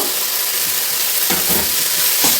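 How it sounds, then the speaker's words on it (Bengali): Daliya (broken wheat) frying in a pan, a dense, constant close sizzle with a few stirring scrapes of the spoon toward the end. "ডালিয়াটা দিয়ে ভালোভাবে আমি নাড়াচাড়া করে নেব"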